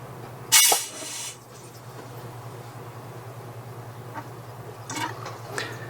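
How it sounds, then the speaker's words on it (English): A newly fitted water tap on a sailboat, drawing from the boat's tank, spits out air and water in a sharp, loud opening gush, then sputters faintly and irregularly over a low steady hum. "There will be lots of air in the system here, so this will no doubt spit like an angry little dragon."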